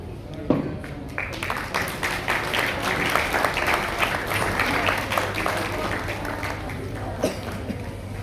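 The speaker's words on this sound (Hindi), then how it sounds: "जोरदार तालियां इस खूबसूरत परफॉर्मेंस के लिए।" A parish audience gives loud, continuous applause after a church skit performance, crowd clapping holding steady throughout with a murmur of voices underneath.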